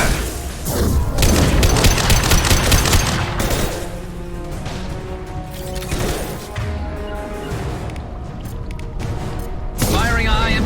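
Gunfire in the sci-fi shooter Mass Effect 2 on Insanity difficulty, loud repeated shots and impact crashes in dense bursts, with in-game voices talking over the battle.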